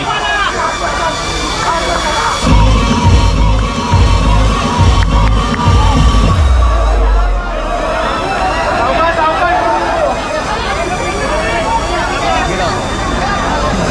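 Crowd at a Konkan Dahi Handi festival in Rajapur, with dense cheering, whoops and clapping mixed with a loud deep drum rhythm, while an announcer speaks over the PA throughout.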